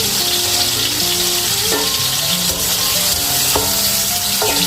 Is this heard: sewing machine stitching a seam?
no